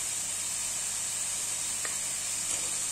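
Meat with garlic frying gently in a pan over low heat gives a steady, soft sizzle and hiss, close and even, with a couple of faint clinks.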